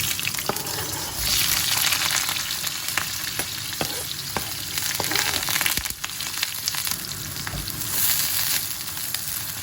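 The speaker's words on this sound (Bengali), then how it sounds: "তেল গরম হয়ে গিয়েছে, এখন দিয়ে দিব কুচি করা পেঁয়াজ।" Chopped onion hitting hot oil in a home kitchen for a noodle dish, giving a steady, loud, dense sizzle and crackle throughout, with occasional stirring clicks and no talk.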